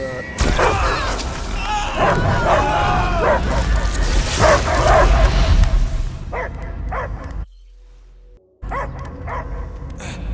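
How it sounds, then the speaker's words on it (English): A dog barks in the Guardians of the Galaxy video game, with yips and bow-wows set in dense, loud game audio and voices, then a brief near-silent gap before the noise returns. "I hear only barking."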